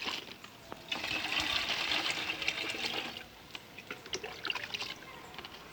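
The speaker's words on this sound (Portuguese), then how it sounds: "Nós vamos colocar a água, certo? Nessas aberturas." Water poured into a plastic bottle with small holes punched in its cap, a busy splashing and trickling that runs for a few seconds and then breaks into lighter drips.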